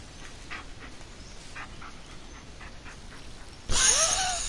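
A dog in the horror video game Blair Witch gives a sudden loud bark or whine near the end, after a stretch of quiet ambient forest noise with faint scattered sounds.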